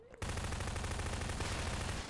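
Rapid automatic gunfire in the video game Garry's Mod on a scary Halloween map bursts in after a brief pause and rattles on continuously, loud and dense, to the end.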